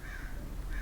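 A crow caws faintly in the distance, a brief harsh call rising over a steady low background hum with no speech.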